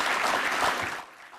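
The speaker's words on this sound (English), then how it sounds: "I think that deserves a big round of applause" A brief burst of applause, steady dense clapping that tails off abruptly after about a second.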